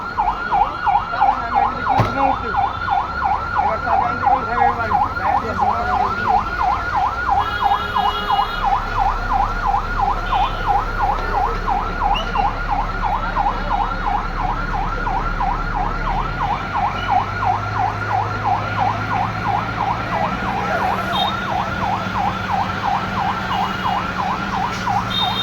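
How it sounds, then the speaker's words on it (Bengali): A fire brigade siren wails in a steady, fast repeating cycle as the fire engine arrives at a fire on a busy road, loud and sustained over traffic rumble and faint background voices. "এখনই আগুন নেভানো হবে, দমকল বাহিনী চলে আসছে।"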